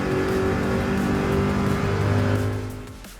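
A Gran Turismo 7 GR3 race car roars steadily at high revs as it accelerates out of a corner at Trial Mountain, engine tone shifting with the throttle before fading slightly at the end.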